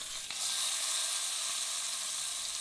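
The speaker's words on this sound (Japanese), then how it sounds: "このようにまず側面だけをきれいに焼き固めていきます。" A bone-in ribeye seared on its edges in a hot pan gives a close, continuous bright sizzle, steady and loud, with a brief shift as the meat is handled early on.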